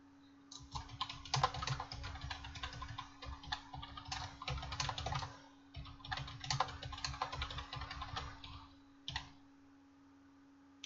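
Rapid, continuous typing on a computer keyboard in two long bursts separated by a short pause, then a single last click, close up over a steady background hum.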